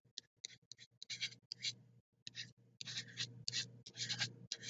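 A marker writes numbers on a board in quick, scratchy strokes, with short bursts separated by brief pauses, heard close and clear.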